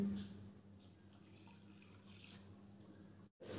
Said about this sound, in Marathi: तर मी 1 ग्लास पाणी ॲड करते